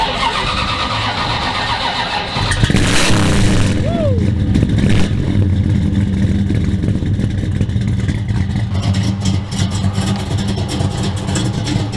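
A Plymouth Barracuda engine cranks and fires, then revs and settles into a loud, rumbling idle close by, with a few voices faintly in the background.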